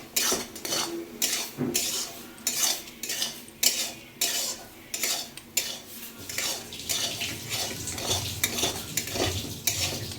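A spoon is worked through a dry semolina dough in a metal pan, making loud, rhythmic scraping and clattering strokes close by with a faint fry underneath.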